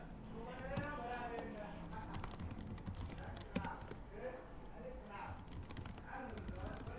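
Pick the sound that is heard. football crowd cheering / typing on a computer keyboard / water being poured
typing on a computer keyboard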